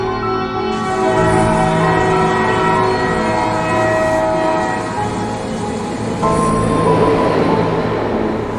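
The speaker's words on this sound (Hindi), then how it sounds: "और वो देखो, ट्रेन आ भी गई है।" A train pulls in with a loud, sustained horn blast over rumbling wheels and the clatter of the cars, and the horn swells again near the end.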